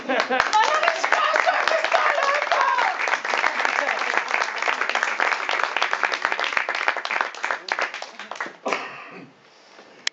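An audience at a short-film festival gala claps in dense, continuous applause with a few voices mixed in, then tapers off abruptly near the end.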